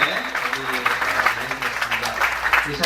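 An audience applauds panel speakers at a church general assembly panel discussion, steady clapping from many hands lasting a few seconds, with voices and bits of talk mixed in over it.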